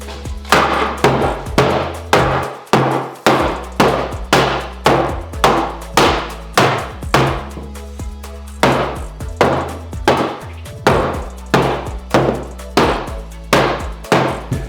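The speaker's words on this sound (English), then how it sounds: "we're gonna take our hammer and start to bang on it" A hammer bangs repeatedly on a wooden board to distress it, in a steady, even rhythm. The blows are loud and close, with no talking.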